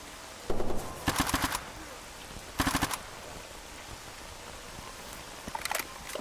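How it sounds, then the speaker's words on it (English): Automatic gunfire in the video game Stalker Anomaly, several short rapid bursts spaced apart, fairly faint with no talk. "Oh, we're still getting shot at."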